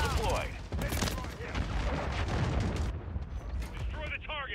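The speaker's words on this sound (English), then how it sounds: "friendly cruise missile deployed" A cruise missile strike in Call of Duty Modern Warfare 3 multiplayer erupts as a loud barrage of explosions and crackling gunfire, with short radio-style voice callouts at the start and end.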